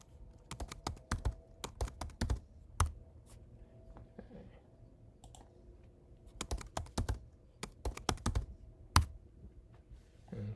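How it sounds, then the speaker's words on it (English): Password typed on a computer keyboard during an online registration: bursts of quick, close key clicks in uneven runs, with pauses between groups and no voice. "But I'm just going to type a password in."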